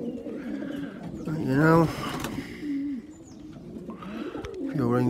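Pigeons cooing inside a loft holding young birds and stock cocks, soft repeated throaty coos rising and falling close by, with someone speaking briefly over them.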